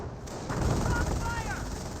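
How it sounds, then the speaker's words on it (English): Mortar fire strikes an anti-tank gun in the World War II strategy game Company of Heroes, a short burst of muffled explosive thuds and crackle lasting about two seconds. "Mortars are hitting the AT gun now."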